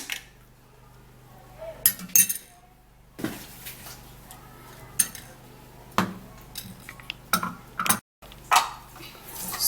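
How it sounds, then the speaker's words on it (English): A spoon stirs honey into a drink in a cup, giving scattered clinks and taps against the vessel, irregular bursts of light metallic knocking close by in a quiet room. "you put it in and then you stir it"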